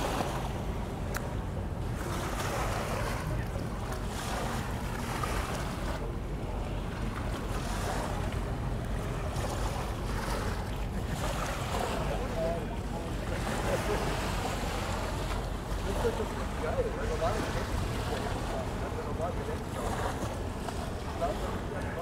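A large ship passes on the Elbe beside a Hamburg beach at high tide, a steady low rumble blended with wind buffeting and lapping water that holds throughout.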